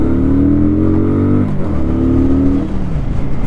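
A new motorcycle pulls away on its first ride, the engine revving up through a rising tone, easing briefly and then climbing again, loud and close with no talk over it.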